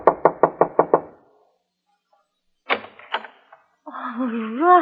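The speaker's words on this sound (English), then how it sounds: "I knocked at the door." Five quick, firm knocks on a door sound close and even, followed by a pause, then a few scattered thuds and a voice speaking.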